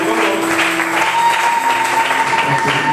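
A church congregation claps together during a French-language sermon, a steady close wash of hands with a faint sustained tone running underneath.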